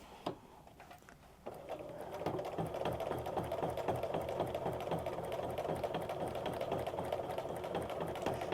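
A domestic sewing machine stitches a quilt against a ruler, starting with a few clicks before settling into a steady, fast mechanical whirring hum that runs continuously and close.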